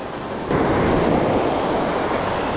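Ocean waves crash on a California beach during surf fishing, a loud broadband roar that surges suddenly and then rushes on, close and without voices.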